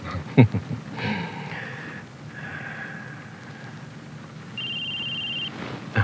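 A telephone rings in a room with a soft, repeated electronic trill, a few short bursts of tone over faint background noise and sniffing sounds, followed by one longer, steady beep near the end.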